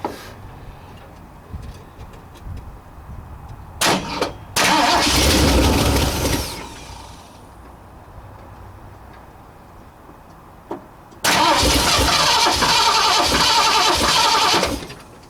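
A 1960 Ford F100's 351 Windsor V8 cranks hard in two loud bursts separated by a quiet pause, trying to fire but not settling into a steady idle.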